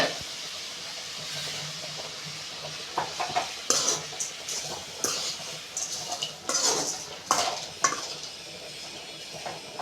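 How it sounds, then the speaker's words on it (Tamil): Tamarind and other mint chutney ingredients are sautéed in a kadai, giving a steady sizzle broken by repeated scrapes and clinks of a spatula against the pan. "எல்லாத்தையும் நல்லா வதக்கிக்கலாம்."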